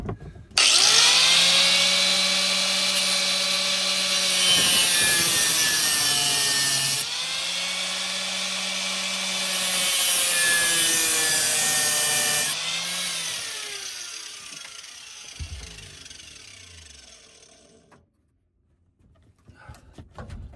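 An angle grinder cuts through the metal mounts of a police car gun rack inside a Charger, a loud whining screech in long bursts that winds down at the end.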